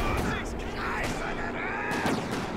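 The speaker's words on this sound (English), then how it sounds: "I'm pretty sure the mortar is firing." Mortar firing in the strategy game Company of Heroes 2, with muffled booming thumps and distant gunfire in a dense battle mix, with a voice talking over it.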